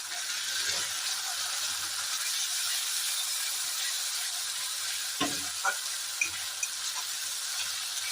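Ginger, garlic, cumin and chilli paste frying with reddened onions in a pan gives a steady, close hiss throughout, with a few brief clatters of stirring near the end and no talk.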